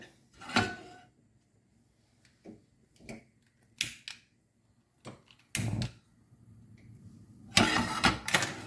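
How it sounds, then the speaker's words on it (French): A kitchen gas stove burner is lit under a pan with a little sunflower oil: scattered clicks and knocks, then a broad rushing burst near the end as the flame catches, fairly close. "Je vais allumer mon feu"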